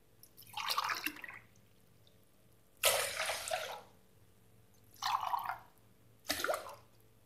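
Water is poured in four short splashing bursts into a pot of rice for cooking, each pour a few seconds long and close by, with quiet gaps between.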